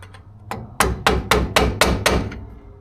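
Hammer blows drive a pry bar against a lock washer on a Land Rover Series 3 brake part, about seven sharp metallic strikes in a steady rhythm, loud and close.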